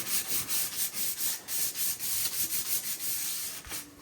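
Sandpaper rubbing back and forth over an old hickory wooden handle in steady rhythmic strokes, close and fairly loud, with no voices.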